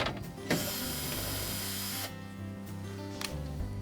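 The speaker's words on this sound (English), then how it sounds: "We'll next remove the 3 screws that hold that auger motor assembly in place." A power driver whirs as screws are backed out of a GE refrigerator's auger motor assembly, with steady motor whine, brief bursts, and the clatter of tool contact.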